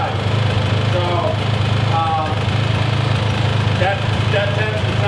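Polaris Xplorer ATV with an all-wheel-drive fault, its engine idling in a steady loud rumble throughout while someone talks over it.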